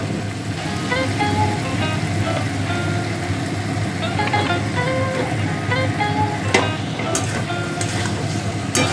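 Potatoes and pointed gourd drop into spice paste frying in oil for a fish curry, giving a steady close sizzle broken by occasional clinks and scrapes of stirring.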